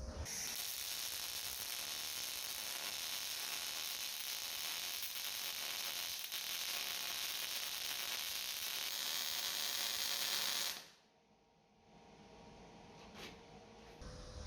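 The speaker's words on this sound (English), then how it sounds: "So I'm going to weld up the top side" Welding the top side of a DIY farm jack foot, a steady close crackling hiss running for about ten seconds before the arc cuts off, leaving quiet room noise and a few faint clicks.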